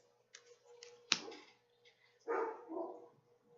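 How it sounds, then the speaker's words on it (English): A dog barks indoors in a few short, moderately loud bursts, with a sharp sound and some faint tapping in between. "There goes my dog again."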